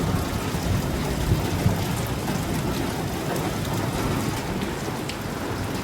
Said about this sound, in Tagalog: Yan, kumukulog na naman.